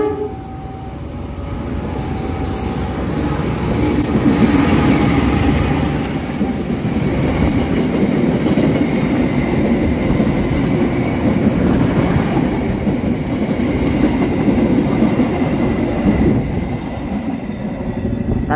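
The Serayu passenger train roars steadily past at close range through Cilame station without stopping, wheels rumbling and clattering on the rails for the whole stretch, with no talking.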